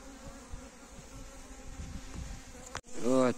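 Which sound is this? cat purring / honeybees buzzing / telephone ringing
honeybees buzzing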